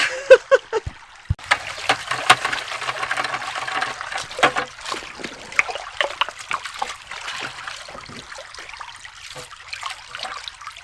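Glacial gold concentrate is swished in a pan of cold water, with trickling, sloshing and small splashes coming in irregular bursts at close range, fairly quiet throughout.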